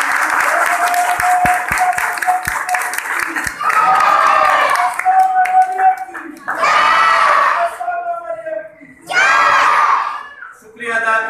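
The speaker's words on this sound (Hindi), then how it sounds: "मैं चाहूंगा कि फादर जी के लिए भरपूर ताली बजाई जाए।" Audience applause and cheering for a priest at a Marian pilgrimage gathering, with dense clapping and crowd noise running throughout, interrupted by loud amplified shouts or calls that break in over it several times.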